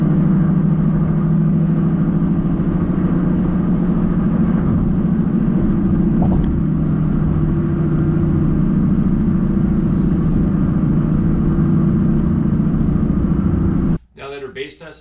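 Inside a 2015 Honda Fit (GK5) while driving, a steady low rumbling drone of engine and road noise fills the cabin for most of the clip before a sudden drop and some rustling at the end.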